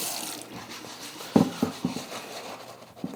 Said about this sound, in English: We just take a little bit of our antibacterial Dawn soap on our little scrubby pad, cascade the water down,